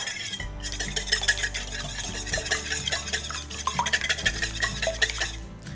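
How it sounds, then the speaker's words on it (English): Two large eggs get a light whisk in a bowl for cornbread batter, a quick rhythmic clicking and tapping of a whisk against the bowl. The sound is close and steady throughout with no voices. "the first thing you're gonna add to your bowl are 2 large eggs, and we're gonna lightly whisk those up"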